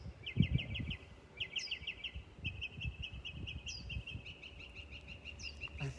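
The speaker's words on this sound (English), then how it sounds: "It's nice to hear the birds singing though." Birds chirping beside a pool in Phoenix, Arizona: repeated bright, rapid trilled phrases from a small songbird at moderate distance, recurring every second or so over faint outdoor rumble and a few soft low thumps.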